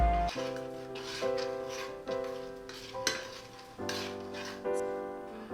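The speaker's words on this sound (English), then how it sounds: "Scoop in and whisk it in." Brownie batter with condensed milk being whisked in a bowl, a series of close, uneven scraping strokes with the whisk ringing against the bowl in a loose rhythm.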